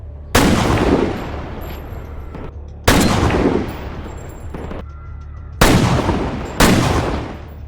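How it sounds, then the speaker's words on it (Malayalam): Four loud, sharp gunshots from a sniper shooting scene in the 2012 film Jack Reacher, irregularly spaced, each trailing off into a long echoing decay, with no speech. "ചാർലി നദിക്കപ്പുറമുള്ള 5ഓളം വരുന്ന ആളുകളെ വെടിവെച്ച് കൊല്ലുകയാണ്."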